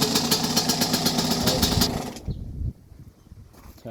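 A 1983 Yamaha YZ125 two-stroke motorcycle engine running loud and close with a rapid, buzzy firing pulse, then cutting off abruptly partway through and leaving only low rumbling and handling noises.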